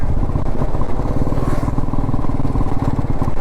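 An old Royal Enfield Bullet motorcycle rides steadily along a forest road, its single-cylinder engine thumping loud and close in a continuous rhythmic chug throughout.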